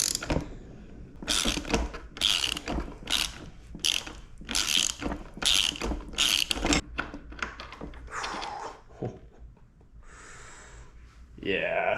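A breaker bar strains against a red-Loctited bolt on an Aprilia RS660, producing a run of loud, rhythmic ratcheting clicks and creaks in close bursts, with a person talking partway through.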